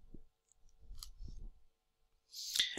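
A computer mouse clicks on a booking button, giving a few faint, sharp clicks amid quiet, with one brighter, louder click near the end.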